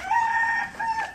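Serama and Rhode Island chickens eating leaves, with one short nearby crowing or clucking call of two tonal bursts, heard alone.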